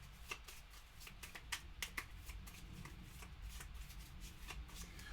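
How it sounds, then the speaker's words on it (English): Board game cards being riffle shuffled, a close, quiet run of crisp fluttering bursts repeating in quick succession with no talking. "Riffle shuffle is the best way to not really shuffle your cards."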